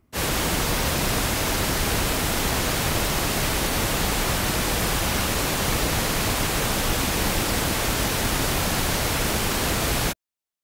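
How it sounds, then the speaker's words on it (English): Steady, even hiss of pink noise, loud and unbroken for about ten seconds before stopping abruptly. "Here's the pink noise, just to get you warmed up."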